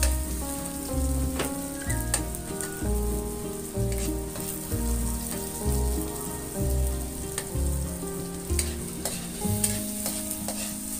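Onions sauté in a pan with garlic for a fishball dipping sauce, giving a continuous crackling sizzle with stirring over steady background music.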